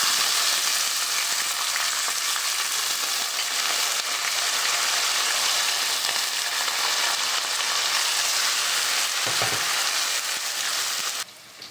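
Onion tossed into a pan with salt and ginger fries with a steady, loud broadband sizzle throughout, ending abruptly with a brief clatter near the close.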